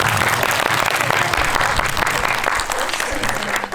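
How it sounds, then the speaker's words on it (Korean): Audience applause at a special GV screening event for a Korean film, dense sustained clapping filling the hall, loud and steady throughout with some crowd voices mixed in. "박수 한 번만 부탁드릴게요"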